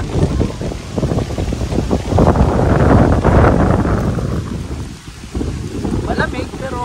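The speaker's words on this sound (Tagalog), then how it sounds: "Mahangin." Strong gusts of wind by the Saskatchewan River buffet the microphone in loud rumbling waves, easing briefly before picking up again.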